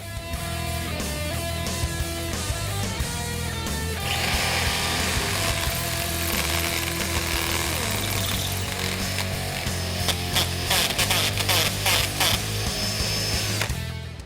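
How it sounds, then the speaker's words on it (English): A power drill boring a 15/32 inch, roughly 12 millimeter, hole through a part for a KONI adjustable shock and strut assembly on a 2015-2023 Mustang: a loud, continuous whining motor with grinding bite that changes partway through, with no talking. "we have to drill this out to 12 millimeters"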